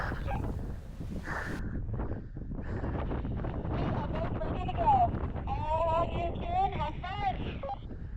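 Wind blows steadily and roughly across an outdoor setting with a muffled, gusty rush that runs throughout, while voices come and go over it.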